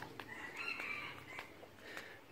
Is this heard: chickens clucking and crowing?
yes